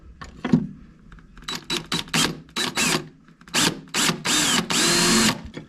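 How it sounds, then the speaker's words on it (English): Cordless power drill boring a hole for a rock light on a vehicle, several short bursts of whirring followed by a longer sustained run, close and loud with brief pauses between. "use the drill."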